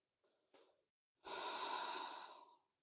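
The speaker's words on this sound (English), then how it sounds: "Breathing in and breathing out." Calm breathing during a gentle yoga session: a couple of soft short breaths, a brief pause, then one long, audible exhale that trails off, close and quiet with no talking.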